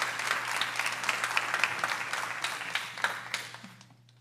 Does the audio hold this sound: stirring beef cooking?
no